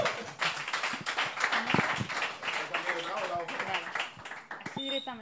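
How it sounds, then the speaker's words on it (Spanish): Scattered audience clapping at a live comedy show, uneven and patchy, mixed with loud talking and laughter that dominate the clip. "¡Un aplauso a esta chica!"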